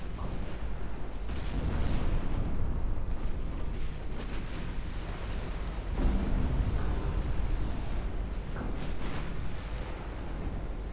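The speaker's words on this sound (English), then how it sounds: "Torpedo detonation." A torpedo detonation in the naval warfare game Ultimate Admiral Dreadnought, a deep, rumbling blast layered with ongoing booming fire and a roaring, wind-like low wash that swells and fades.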